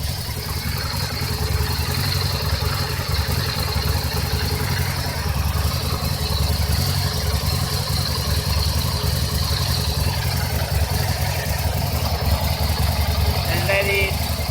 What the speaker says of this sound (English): that's why you have to run the engine